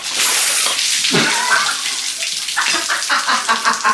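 Coolant, plain water without antifreeze, splashes and gushes steadily as it drains from a Nissan 300ZX engine onto a surface with bubbling, gurgling flow close by.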